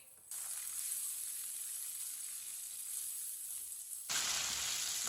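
Chopped tomato and two green chillies sizzle steadily in a hot pan for moong daal, a constant close frying hiss that swells louder near the end.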